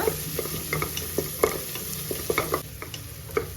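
Onions, cumin and dried red chillies fry in a pan for pressure cooker sambar rice while a spoon stirs them. Close scraping knocks come in an uneven rhythm over a soft, steady sizzle, without speech.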